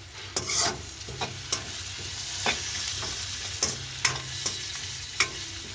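Onion, green chillies and curry leaves sautéing in a pan, a soft steady sizzle broken by sharp spoon clinks and scrapes at uneven intervals, close and moderately quiet.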